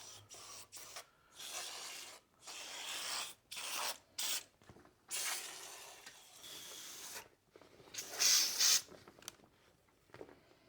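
A mini split air conditioner is rinsed with a handheld sprayer, giving bursts of hissing spray that start and stop repeatedly, with brief pauses between them and a louder, sharper burst near the end.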